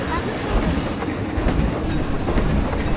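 The Disneyland Railroad train in Planet Coaster rolls along with a steady clickety-clack and rumble, loud and close, while faint voices are heard underneath.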